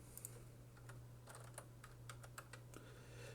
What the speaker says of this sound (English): Typing functions into Wolfram Alpha takes a little bit of practice.